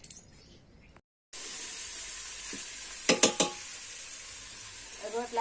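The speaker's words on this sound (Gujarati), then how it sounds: "અને હવે જો આ વાલોનું બટેટાનું શાક તળે છે." A bean and potato curry fries in a pan, a faint, steady sizzle with a few sharp clinks of utensils against the pan near the middle and a brief gap of silence early on.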